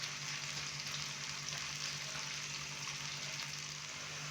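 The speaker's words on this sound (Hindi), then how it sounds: "गोल्डन ब्राउन होने तक प्याज को हमने फ्राई करना है" Onions frying in oil for Bannu beef pulao give off a steady, even sizzle and hiss that runs unbroken from start to finish, close by and with no talking.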